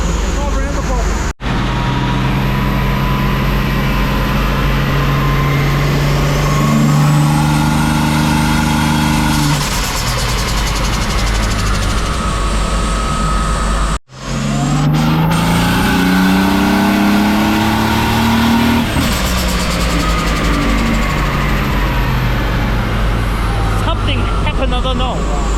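A turbocharged Ford AU Falcon revs on a dyno, engine pitch rising steadily in two long pulls with a sharp cut between them, loud and near, with people talking over the roar.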